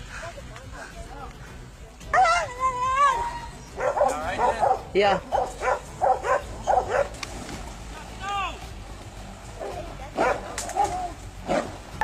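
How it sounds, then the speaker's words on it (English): Hunting dogs bark and yip excitedly during a wild pig hunt, a run of loud close barks in rhythmic bursts with some whimpering, and a brief voice speaking. "The dogs' continuous barking helps guide the hunters directly to the scene where the pig is being held."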